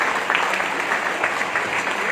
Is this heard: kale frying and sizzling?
no